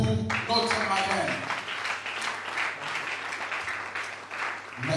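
Audience at a conference debate on the role of women in society breaking into applause, a steady wash of clapping with a voice speaking over the start and a low hum beneath.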